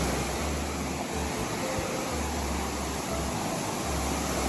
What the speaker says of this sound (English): But you can hear the water, man.